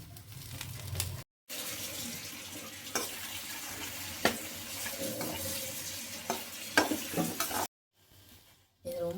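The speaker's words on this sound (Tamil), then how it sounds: "கட் பண்ணி வச்சுருந்த வெண்டைக்காவை இந்த மாதிரி கடாயில் போட்டு எண்ணெய்லாம் ஊற்றாமல் அது பிசுப்பு போகிற வரைக்கும் வதக்கணும்" Cut okra sautés in a dry kadai with no oil over a low flame, a faint crackling sizzle with occasional spatula scrapes and knocks, interrupted by two brief silent gaps.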